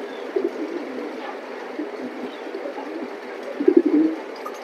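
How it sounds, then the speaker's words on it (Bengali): Pigeons of a racing breed in a seller's loft coo softly, with a low steady murmur throughout and a louder burst of cooing near the end. "এখানে অনেক ভালো ভালো কবুতর"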